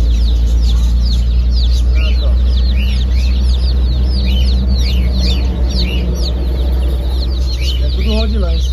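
Rhode Island chickens at a feed store give a close, continuous chorus of clucks and high chirping calls over a steady low background hum.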